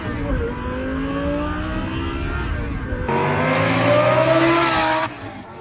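A twin-turbo Lamborghini V10 revs hard and close, its pitch climbing in smooth sweeps and then rising sharply into a louder, brighter howl before cutting off near the end.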